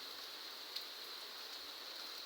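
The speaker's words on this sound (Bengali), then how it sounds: "এত আবহাওয়া, বৃষ্টি পড়তেছে, অনেক বড় বড় বৃষ্টি।" Rain falls during a cyclone in Gaibandha, a faint, uniform hiss of steady downpour heard from a distance, unbroken and without voices.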